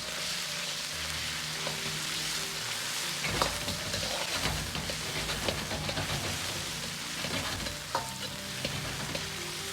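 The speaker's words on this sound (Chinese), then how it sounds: "保持中小火把羊肉煸炒至稍微断生" Lamb sizzles and crackles steadily in hot oil in a wok over medium-low heat, with the scrape and clatter of stir-frying cutting through a continuous close frying hiss.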